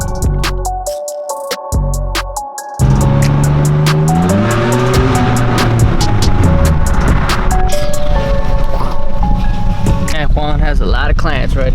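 A Ferrari in a video game racing at high speed, its engine whining loudly and continuously as the pitch climbs and sweeps upward, with sharp repeated clicks beforehand.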